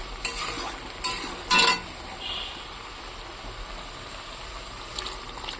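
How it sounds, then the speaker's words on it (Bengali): Water splashes into masala frying in oil, giving a brief loud gush and sizzle, followed by quieter stirring and a low simmering hiss with a few clinks. "এইবার আমি এর মধ্যে জল ঢেলে দেবো"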